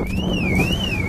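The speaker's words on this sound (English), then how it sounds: "Oh, someone's alarm." A car alarm at a Cars and Coffee meet in Dallas wails with a rising and falling electronic siren tone, loud and continuous over a low rumble.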